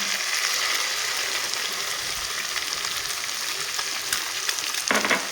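Beaten duck egg frying in hot mustard oil with a loud, steady close-up sizzle, a small rise in crackling toward the end, and no talking.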